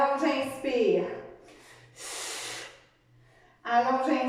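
Deep inhaling and exhaling during a cardio workout, with a long breathy intake between stretches of someone talking over a faint background hum.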